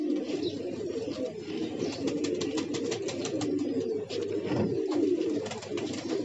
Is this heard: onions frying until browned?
no